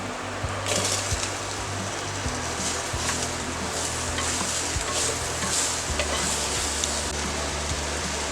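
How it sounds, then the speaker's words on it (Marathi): Steady, loud sizzling of pumpkin with dried coconut powder frying in a clay pot, with scraping and stirring knocks throughout. "सुक्या खोबऱ्याची 2 चमचे पावडर, चांगलं परतून घेऊया। आता भोपळा घालून घेऊया।"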